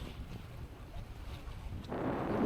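Strong wind gusting during a storm while fishing outdoors, a steady low buffeting roar that swells louder and rougher near the end, with no talking.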